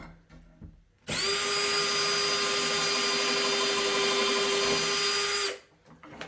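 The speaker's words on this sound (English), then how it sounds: "Drill your pilot." A power drill whirs at full speed for about four seconds, steady and close, drilling a pilot hole in a wooden interior door, then winds down, with quiet handling noise before and after.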